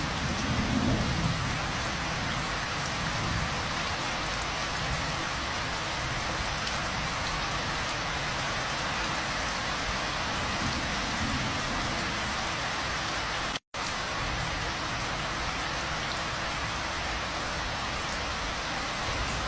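Heavy rain pours down on Jalan Budi Mulia, a street prone to flooding, in a dense, steady roar, with a brief low rumble of thunder near the start and no letup.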